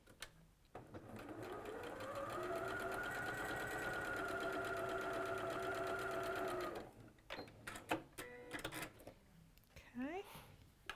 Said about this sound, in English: You're just actually sewing on the line.